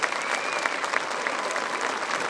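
An outdoor crowd at a D-Day 75th anniversary ceremony at the American Cemetery at Omaha Beach applauds a band, with dense, steady clapping at an even level throughout and no one speaking.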